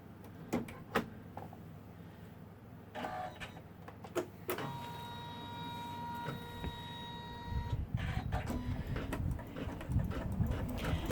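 An embroidery machine stitches the outline of a mermaid tail pouch in the hoop, a steady mechanical whir with rapid needle clatter and sharp clicks and thumps, getting louder and busier toward the end.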